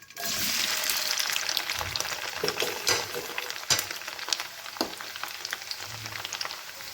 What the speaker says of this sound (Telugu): చూడండి, ఆయిల్ హీట్ అయిపోయింది. ఇప్పుడు మిల్ మేకర్ వేసుకుందాం.